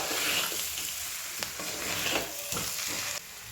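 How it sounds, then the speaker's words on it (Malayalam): Fried chicken is stirred into biryani gravy in a pot, a steady sizzle under scraping spoon strokes, close-up with no voices. "നന്നായിട്ട് ഗ്രേവിയും ചിക്കനും കൂടെ മിക്സ് ചെയ്യാം"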